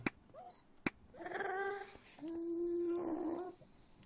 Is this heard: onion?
no